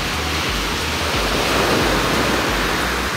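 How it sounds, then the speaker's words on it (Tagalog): Strong ocean waves surge and break near the shore where people are fishing, making a loud, continuous wash of surf with steady roaring turbulence and no talk over it. "Lakas ng alon, no?"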